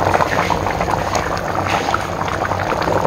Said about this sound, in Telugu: చింతపండు పులుసు అంతా కూడా ఇలా మరుగుతూ ఉంటుంది.